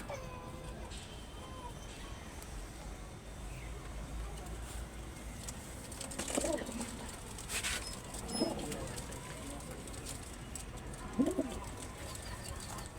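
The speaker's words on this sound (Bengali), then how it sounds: "দেখেন কবুতরগুলা" Soft pigeon coos rise now and then over a steady background hum on a rooftop garden, a few low murmuring calls spread across the recording.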